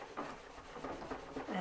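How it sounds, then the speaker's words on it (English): A violin being polished with a cloth, giving soft, continuous rubbing and swishing strokes up close at low volume. "See, I'm just polishing it again."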